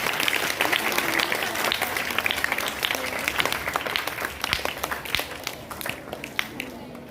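A crowd of students at Al-Hira School claps loudly and continuously for prize winners, a dense ongoing applause with a voice speaking over it.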